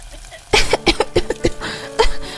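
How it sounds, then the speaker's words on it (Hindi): A burst of harsh, repeated coughing, several rapid hacks in a row with a short pause before a final cough, close and fairly loud. "देवरानी को जोर जोर से खांसी आने लगती है।"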